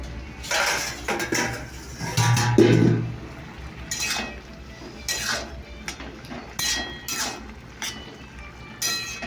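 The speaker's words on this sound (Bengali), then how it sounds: "তো চলো বন্ধুরা, দেখি এবার ঢাকা খুলি কতদূর কী হলো" A lid comes off a cooking pot, giving a metallic clink and clatter of kitchen cookware that stands out briefly against steady background noise, with no one talking.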